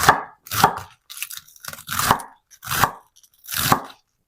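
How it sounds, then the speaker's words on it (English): A knife cuts romaine lettuce into strips on a cutting board, six distinct crunchy chops in an uneven rhythm, close and crisp with short pauses between strokes and no talking. "I'm going to cut it in half lengthwise, and then I'm going to cut it down into strips"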